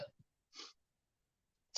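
A single person's sneeze comes in short, faint bursts, with a quick breath at the start and a sharp burst at the very end, separated by near-silence.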